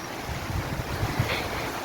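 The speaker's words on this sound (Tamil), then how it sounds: "இங்கே பாருங்க மக்களே, எவ்வளோ மழை பெய்யுதுன்னு" Heavy rain and strong cyclone wind in Madurai make a loud, continuous roaring rush with gusty buffeting against the microphone, no voices heard.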